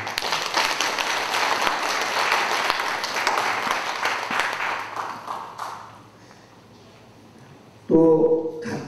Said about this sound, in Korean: 우리 이경 작가에게 축하와 격려의 박수 한번 보내주십시오.